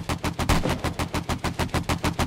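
Rapid gunfire in the 7 Days To Die game, Ravenhearst mod: a fast, evenly spaced burst of about a dozen sharp, loud shots in quick succession, with no talking.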